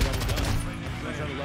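A revolver fires in Call of Duty: Modern Warfare 2, one loud, close, booming shot that rings out briefly amid dense game noise.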